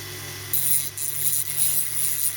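A 1957 die-cast Corgi Standard Vanguard 3 toy car being ground open with a power tool. A high abrasive grinding whine starts after a low motor hum and continues steadily, with brief dips, and no voices.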